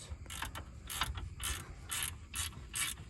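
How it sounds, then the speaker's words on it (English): Ratchet wrench tightening a bolt on a car coilover in a garage, a series of close, rhythmic clicking pulls, about six bursts over a few seconds against a low background hum. "So we're going to tighten down this bolt."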